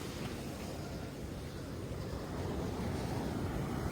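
Sea waves wash onto a beach in a steady, loud broadband roar with wind buffeting the microphone, continuous throughout with no voices.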